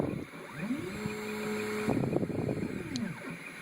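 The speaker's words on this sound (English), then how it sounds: "These gear motors are spinning at about 30 revolutions per second." Gear motors driving a motion-control rig, spinning at about 30 revolutions per second: a whine that sweeps up in pitch, holds steady with mechanical rattle, then winds back down, close and moderately loud.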